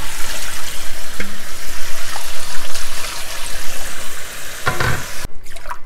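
Freshly harvested garden lettuce tipped into a basin of water and swished around, a loud, close, continuous sloshing and splashing that ends with a couple of distinct knocks and a sudden quiet.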